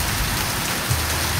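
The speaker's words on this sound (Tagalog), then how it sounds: "Lakas ng ulan ngayon dito mga ka-idol." A very heavy summer downpour falls with no wind, a dense, continuous close hiss of rain on surfaces with no break.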